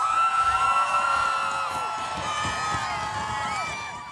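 Home crowd at a Red Bull Crashed Ice 2018 ice cross women's final in the US cheers, whoops and yells in a continuous loud roar, with shrill whistles and screams rising over it.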